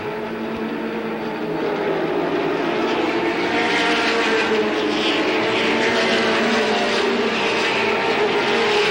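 Late model race cars roaring around Capital in 1985, a dense continuous engine drone from several cars at once, fairly loud and steady throughout with no talk over it.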